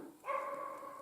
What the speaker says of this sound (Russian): Тулан уже лает кого-то.